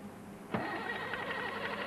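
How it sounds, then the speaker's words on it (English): A diesel engine fires up after fuel injection pump setup, a sudden burst followed by a steady, close running rattle. "the engine will start and run."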